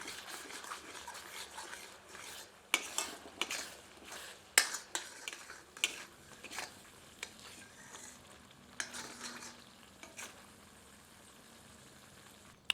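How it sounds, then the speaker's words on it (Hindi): Ground spice paste for a spicy magur catfish curry fries on medium heat while a ladle stirs it, sharp scrapes and taps against the pan over a soft sizzle, busiest early and then easing off. "सबको अच्छी तरह मिलाकर 2 से 3 मिनट मध्यम आंच पर भूनते हैं"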